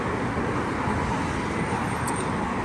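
Steady road traffic rumbling past the front of a shop, a continuous broadband wash of engines and tires at moderate distance with no single vehicle standing out, plus a brief high whine near the end.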